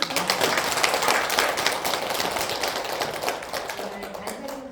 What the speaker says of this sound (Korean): 오늘 제자화 과정 개관에 대해서 강의해 주신 우리 강사님께 뜨겁게 박수를